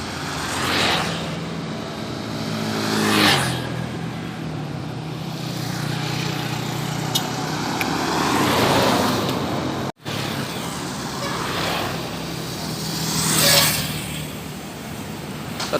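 Buses and traffic pass on a Sumatra highway, a continuous roar of engines and tyres swelling as several vehicles go by close, with a brief cut in the middle.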